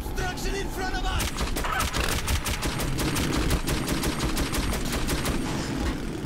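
An overheating mounted gun in Metro 2033 fires in a rapid, steady rattle of close, loud shots, continuous for several seconds with a heavy low rumble beneath.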